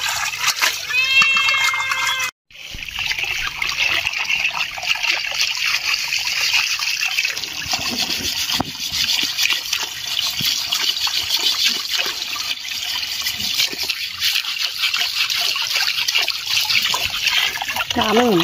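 Water splashing and running while pork legs are washed outdoors in a village kitchen, a steady rushing trickle with a short break near the start and voices faintly underneath.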